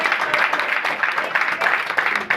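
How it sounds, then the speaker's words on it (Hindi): Applause at a company meeting in Ayodhya welcoming the managing director, a short burst of many hands clapping in a fairly close, busy mix that continues for a couple of seconds. "उनका एक बार जोरदार तालियों से स्वागत करना चाहूँगी।"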